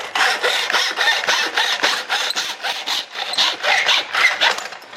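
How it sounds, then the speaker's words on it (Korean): A manual miter saw cuts through a pipe with steady back-and-forth strokes, a loud, close, rhythmic rasping of roughly two or three strokes per second with no talk. "자, 이걸로 자 쥐관도 잘라 보겠습니다."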